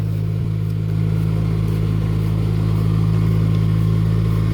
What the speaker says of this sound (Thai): สำหรับรถดำนา รุ่น6แถว ของคูโบต้ารุ่นนี้เนาะ